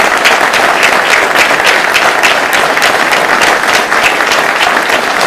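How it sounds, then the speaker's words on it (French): An audience bursts into loud, sustained applause at a New Year wishes and trophy ceremony for the Aunis Atlantique community of communes in Longèves, with dense close clapping throughout. "un tonnerre d'applaudissements."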